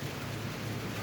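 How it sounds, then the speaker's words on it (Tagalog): Steady rain falls outdoors, a soft, even hiss that runs without a break through the whole short moment, faint and constant with no voices over it. "Ulan-ulan pa eh."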